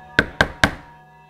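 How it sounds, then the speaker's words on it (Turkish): Three sharp knocks on a door in quick, even succession, close and clear, each followed by a short ringing decay. "Biraz daha dinlendikten sonra kapı çaldı."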